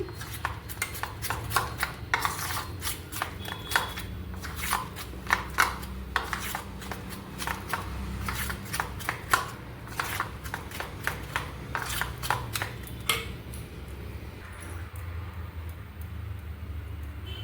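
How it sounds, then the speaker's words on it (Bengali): Vegetable batter for cucumber pakoras, with hot oil just added, is whisked in a bowl, giving a steady run of quick clinks and scrapes against the sides over a low background hum. "গরম তেল দিচ্ছি ব্যাটারে। ভালো করে ফেটিয়ে নিচ্ছি।"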